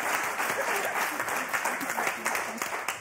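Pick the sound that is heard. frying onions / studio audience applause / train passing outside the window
studio audience applause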